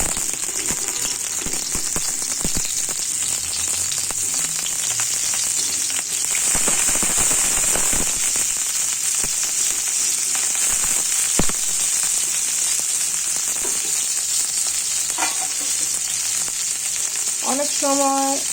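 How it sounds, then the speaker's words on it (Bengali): Onion and garlic frying in hot oil for a radish greens dish, a loud, dense, crackling sizzle that holds steady throughout, close by, with occasional scraping knocks of a utensil in the pan. "পেঁয়াজ রসুনগুলো দিয়ে দিচ্ছি"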